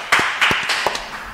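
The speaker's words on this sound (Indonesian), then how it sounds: "Tepuk tangan dulu dong." A small group claps briefly in an indoor podcast setting, a short burst of several sharp, close hand claps that quickly trails off.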